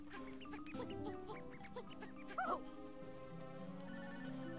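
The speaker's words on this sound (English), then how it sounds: "I hear your phone." Electronic ringing of a phone in the Yooka-Laylee video game, a short melodic ringtone with a chirpy tone burst, heard fairly faint over game music.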